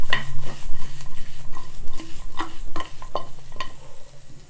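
Smoked pork curry with bamboo shoots gets stirred in a pan: repeated close, loud scrapes and knocks of a spoon against metal in an irregular rhythm over a low sizzle, no voices.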